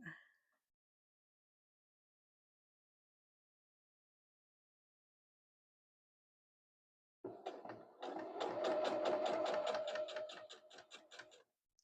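A sewing machine runs steadily for a few seconds after a long silence, its rapid mechanical stitching rattle fairly close and continuous.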